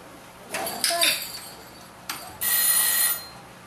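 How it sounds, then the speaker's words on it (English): A puppy rings bells hung on a door; they jingle and clink in a few bursts, a short rattle first and then a longer, brighter shaking near the end. "We've started teaching all our puppies to ring the bells that are on the door."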